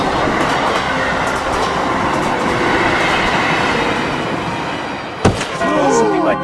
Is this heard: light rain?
no